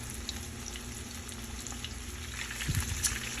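Ribs frying in cooking oil on a small griddle, a steady quiet sizzle with faint crackles and a few louder pops near the end, no voices.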